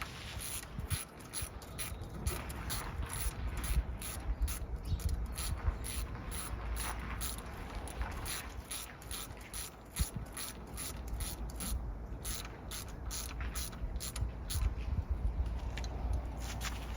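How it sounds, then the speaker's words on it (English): Ratchet torquing cam gear bolts on a Toyota 2JZ-GE VVT-i engine, a long run of rhythmic, evenly spaced ratchet clicks repeating steadily over a quiet background, close by. "And then we're gonna torque it."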